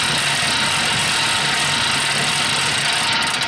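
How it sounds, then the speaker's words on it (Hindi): An old, noisy exercise bike is pedalled in a cartoon, giving off a steady, loud mechanical drone and rattle without a break and with no talking. "ये साइकिल बहुत शोर करती है, टीवी सुनाई नहीं दे रही।"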